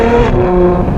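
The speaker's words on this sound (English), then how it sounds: "a phenomenal, beautiful Novitec exhaust fitted" A Novitec exhaust on a Ferrari 812 GTS holds a steady, loud engine note with layered harmonics, its pitch stepping slightly partway through as the revs hold high.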